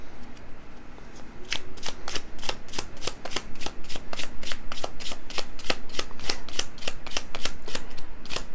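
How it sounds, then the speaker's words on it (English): Tarot cards being shuffled by hand, a steady run of crisp riffling snaps about three or four per second, close and clear with a faint hiss between them and no talking. "Let me pull out a card."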